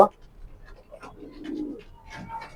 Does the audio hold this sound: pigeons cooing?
yes